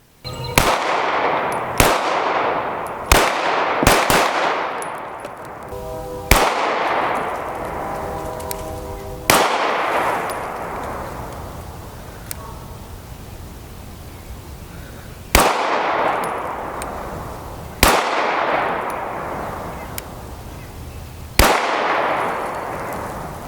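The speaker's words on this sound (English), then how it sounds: "Let's head out to the range and take a few shots and see how it goes." Pistol shots from an S&W M&P fitted with an Apex flat-faced forward set sear and trigger kit at an outdoor range: about eight sharp, loud reports, a quick string of five followed by slower single shots, each with a ringing decay and no talk.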